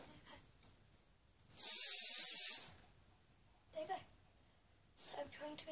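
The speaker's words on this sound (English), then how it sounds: "I'm gonna just get some hairspray and just quickly get a spray" Hairspray hisses from an aerosol can in one loud, steady burst of about a second, close by, followed by quieter moments with soft voices nearby.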